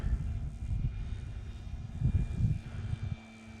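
An FMS Big Pitts V2 RC model biplane roars on takeoff, its steady low engine drone swelling and rumbling nearby as a wind-buffeted outdoor hum runs beneath it.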